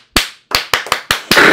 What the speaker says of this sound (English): Everyone, clap 3 times.